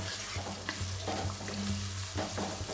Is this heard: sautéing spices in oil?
yes